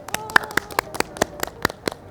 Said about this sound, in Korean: 큰 박수로 맞아드리겠습니다.